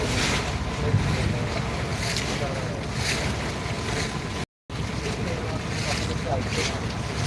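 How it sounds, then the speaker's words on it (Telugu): A boat ride on the Alleppey backwaters in Kerala, with a steady broadband rush of wind and water across the whole stretch and a brief dropout in the middle; no clear voices stand out. "ఓ సముద్రం ఫీలింగ్ ఉంటుంది బోట్ షికార్ మాత్రం నిజంగా"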